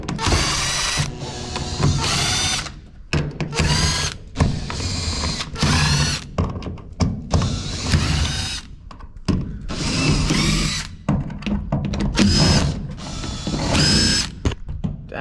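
Power drill backing screws out of the body panels of a 1950 Chevy panel truck, a series of close, loud whirring bursts separated by short pauses, with ratcheting clicks between runs.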